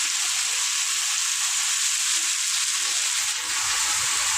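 Bitter gourd and potato fry in a pan with garlic, onion and turmeric, giving a loud, continuous close-up sizzle with no pauses or talk.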